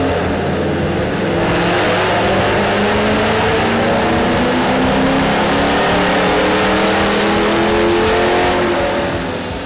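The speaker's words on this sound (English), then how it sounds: "we're going to go ahead and run it with a custom 93 octane BAMA tune" A 2005-2009 Ford Mustang GT with a C&L Racer cold air intake and a custom 93 octane tune roars through a dyno run, its engine climbing loud and continuous at full throttle with no talking.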